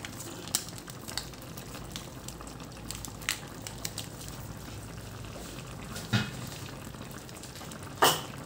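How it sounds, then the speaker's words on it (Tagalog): Adobo being stirred in a pan after oyster sauce goes in: a steady low sizzle with scattered soft scraping and clinking taps of the spoon, and a louder scrape near the end, no talking. "Siyempre, haluin natin."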